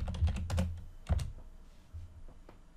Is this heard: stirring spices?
no